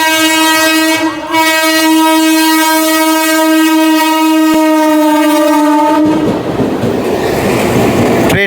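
A train passes close during a Tarakeshwar pilgrimage, its horn blaring loud and sustained for about six seconds before cutting off into rumbling wheel clatter.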